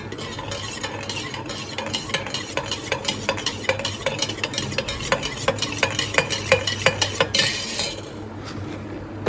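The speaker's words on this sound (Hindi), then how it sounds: "तो इसको थोड़ा हिलाते हैं।" A metal spoon stirs inside a drink can, making rapid, steady clinks and scrapes that speed into a dense rattling run before they stop, close and clear with no talk.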